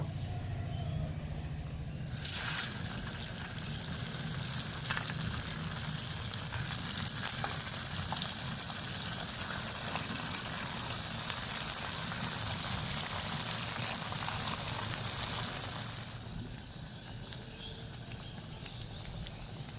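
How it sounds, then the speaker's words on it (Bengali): Potato snacks frying in hot oil give a steady, dense sizzle close by, holding evenly for about fifteen seconds before easing to a quieter bubbling at the end. "এইভাবে করে আমি সব নাস্তাগুলো ভেজে নেব"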